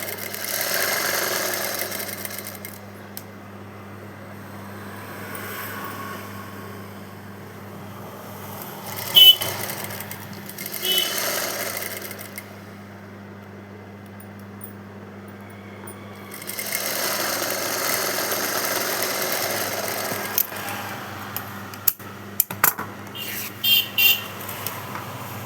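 Sewing machine stitching piping onto a V-cut sleeve: a steady mechanical whirring runs in long bursts, stops, then starts again, with a few soft clicks and handling knocks between runs and no talking.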